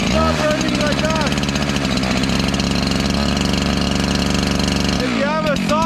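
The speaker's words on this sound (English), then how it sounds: "So it's idling, the saw is running right." A chainsaw idles with its chain brake released, a loud, steady, rough engine putter close by with no talking, rising briefly near the end.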